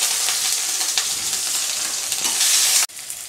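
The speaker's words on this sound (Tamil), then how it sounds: "கருவேப்பிலை சேர்த்து நல்லா வதக்கிக்க" Onion and curry leaves sauté in hot oil with a loud, continuous hissing sizzle, louder toward the end, then breaking into a softer sizzle after a sharp cut.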